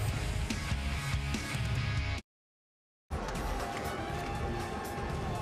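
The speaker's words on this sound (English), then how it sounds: "A loquacious, vociferous crowd here in the West Virginia Coliseum" Dense crowd noise fills the West Virginia Coliseum during a tied NIT basketball game between WVU and North Carolina State, a steady roar broken by a short dropout of near silence midway.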